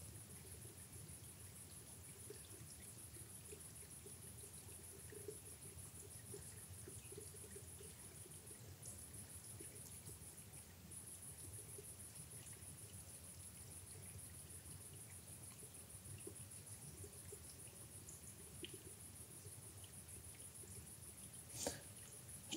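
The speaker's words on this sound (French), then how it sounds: "Alors j'ai entendu un petit bruit juste devant moi, mais je sais pas si c'est pas un grillon." Crickets chirping in Brocéliande forest, a faint steady high-pitched trill over quiet woodland ambience with a small spring trickling nearby and an occasional soft click.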